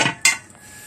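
A large cooking pot used for making taho clanks twice in quick succession, sharp metallic knocks with a short ringing tail, close and loud.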